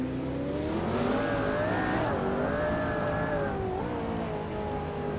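A 2016 Ferrari 488 Challenge race car in a racing video game, its engine droning steadily and rising in pitch as it accelerates, alone without talk.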